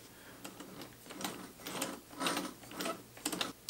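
A treadle sewing machine turned slowly by hand gives a close, quiet series of soft mechanical clicks and ratcheting thumps in an uneven rhythm, with no talk.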